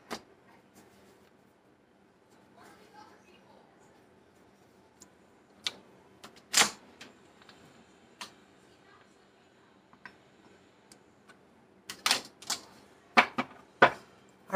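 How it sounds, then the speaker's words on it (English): Crisp clacking and riffling of tarot cards being shuffled, quiet at first, then a burst of sharp snaps toward the end, close by with no talk. "Last shuffle."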